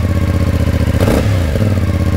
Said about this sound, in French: je trouve que ça sonne plutôt bien là, ce petit 450 et cet échappement là